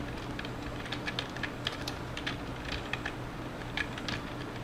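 A web address typed into a Firefox browser on a computer keyboard, soft rapid keystrokes in small bursts over a constant low background hum, with no voices.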